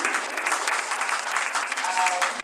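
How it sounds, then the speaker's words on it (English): An audience applauds the faculty at a school extravaganza event, dense steady clapping filling the room with no gaps, fairly loud and close throughout. "a big round of applause for the faculty"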